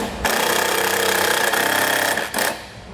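A power driver spins a self-tapping screw into a 2020 Jeep Wrangler during wiring kit installation, a loud continuous whirring drive lasting about two seconds before a brief stop and a short final burst.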